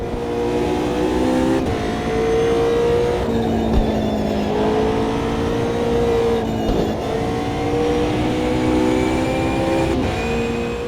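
A GT3 race car in the racing sim Automobilista 2 drives hard, its engine buzzing loud and close as it climbs through the revs, with brief dips at each gear shift, repeated several times, and no talking.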